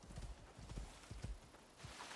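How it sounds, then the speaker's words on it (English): Horse hooves clip-clop in the survival game Icarus, a quick run of close, uneven thuds on hard ground over a faint steady background hum. "What is that? That's a horse."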